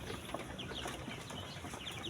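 Chickens cluck softly in the background at a poultry farm, faint scattered calls over a low steady hum.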